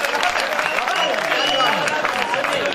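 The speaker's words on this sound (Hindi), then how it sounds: "एक बार जोरदार तालियां बजा दीजिए इनके लिए" An audience at a Hindi comic poetry gathering claps and cheers in a steady, dense burst throughout. Voices are mixed in with the applause.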